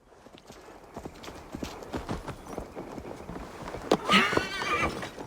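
A horse whinnies loudly near the end while hooves clip-clop in an irregular rhythm throughout, sounding close, in the video game Assassin's Creed Valhalla.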